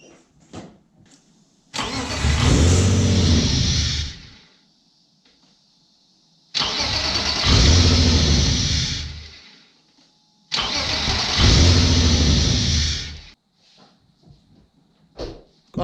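BMW E36 engine starting up outdoors, heard three times in a row: each burst catches and revs loudly for a few seconds before cutting off, with quiet gaps in between.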